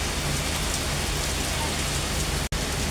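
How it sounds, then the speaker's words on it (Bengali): Heavy rain pouring steadily outside as a dense, unbroken wash of drops on surfaces, loud and close throughout, with one brief dropout near the end. "বাইরে প্রচণ্ড বৃষ্টি হচ্ছে।"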